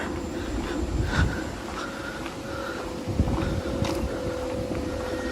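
A gentle breeze blows through the shady trees of a village cemetery in Desa Sodong, Semarang, with soft, uneven wind gusts rumbling on the microphone and faint high chirps in the background, with no talking.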